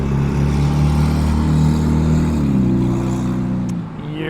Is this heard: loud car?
yes